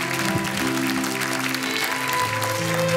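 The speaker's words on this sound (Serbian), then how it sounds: "veliki aplauz za Jelku" Audience applause fills a TV studio as a dense, continuous wash of clapping, while a steady musical tone plays underneath.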